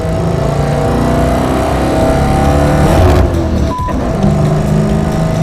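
A race car accelerates hard on a track, its engine droning loud and close with a sharp drop in the middle as the transmission slips out of third gear, then the engine picks back up.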